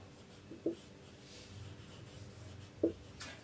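A pen writes a maths solution by hand on paper, a faint soft scratching with two small taps, quiet and close with no talk.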